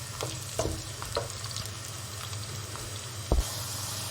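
Garlic and onion sizzle softly in a pan, a low steady crackle broken by a few light clinks and stirring knocks.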